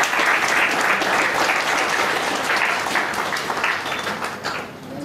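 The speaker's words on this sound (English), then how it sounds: "Please give a big round of applause." A seminar audience applauds the speaker at a talk on liabilities under the Companies Act 2013, with dense, steady clapping from many hands that fades slightly toward the end.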